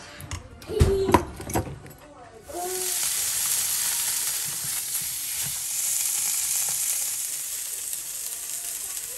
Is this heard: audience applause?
no